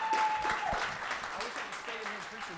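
An audience at a Summer Slam event breaks into applause and cheering, a dense clapping wash heard somewhat distant under a voice speaking over it.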